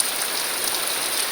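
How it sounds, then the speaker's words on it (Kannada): Rain falls steadily as an even, close wash of hiss with no pauses, easing slightly but still constant throughout. "ಸ್ವಲ್ಪ ಎಂತ ಕಡಿಮೆ ಆಯ್ತು ಮಳೆ ಚೂರು"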